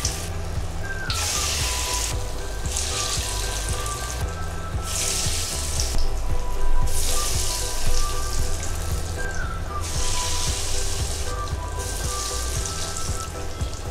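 Cassava vadai sizzles steadily in hot oil, a continuous crackling hiss with bursts of louder spitting as pieces are dropped in, close and uninterrupted, with no talking.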